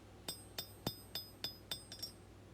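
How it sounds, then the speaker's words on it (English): Hammer forging a stick tang from an old leaf spring, about eight sharp ringing metallic strikes at a steady pace, close but fairly quiet. "And now I'm going to forge out the tang."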